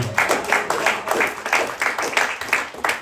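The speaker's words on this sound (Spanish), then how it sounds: "Denle las palmas al Señor" A church congregation clapping in praise to the Lord during a Friday sermon, steady rhythmic group handclaps in a regular beat, fairly loud and continuous.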